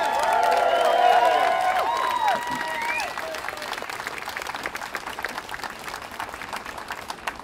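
A crowd at a political rally cheers and whoops loudly, then steady applause with dense clapping carries on for several seconds, gradually easing off.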